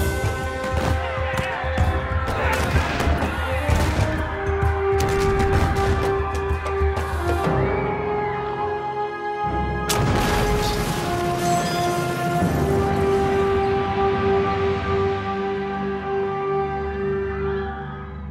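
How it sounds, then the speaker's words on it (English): Gunfire and cannon fire from a 1587 naval attack on Spanish ships in Cadiz harbour, a dense run of sharp cracks and heavy booms, loud and close, then a lull and fresh blasts over a lingering tonal background. "the residents of Cadiz woke to the sound of gunfire"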